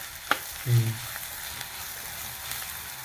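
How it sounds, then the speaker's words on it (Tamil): Onions and mashed elephant yam (pidi karunai) sautéing in a pan give a steady soft sizzle with faint stirring scrapes, and a short low thump comes early on. "இதையும் இப்போ இந்த வெங்காயத்தோடு சேர்த்து நல்லா வதக்கி விட்டுக்கலாம்"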